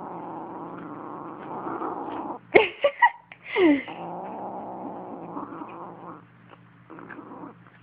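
A kitten growls low and steadily while guarding its food, breaking into a few sharp hissing spits and yowls partway through, close and fairly loud.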